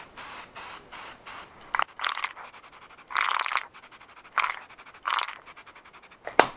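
Self-etching primer sprays onto a Subaru WRX in about ten short, sharp bursts with brief pauses between them, close and fairly loud, a couple of passes held a little longer.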